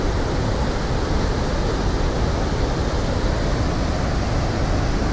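Water pouring over the spillway of the Quixeramobim dam as it overflows with a 74 cm sheet of water, a steady, loud broadband rush that never lets up.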